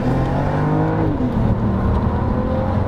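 A 2012 Volvo S60 T6 R-Design street car accelerates hard, its engine note climbing in pitch, dipping at a gear change, then rising again, loud and close with no talk.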